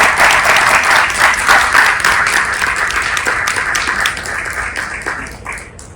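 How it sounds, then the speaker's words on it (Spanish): Loud, close applause fills a conference hall as a doctor is honoured, many hands clapping steadily before the ovation slowly tapers off over a few seconds. "Un aplauso, por favor, para mi doctora."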